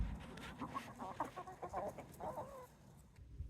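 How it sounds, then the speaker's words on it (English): Backyard chickens cluck in a series of short, fairly close calls, with a few quick bursts in the middle before the sound trails off, all at low volume without speech. "Did I mention our chickens?"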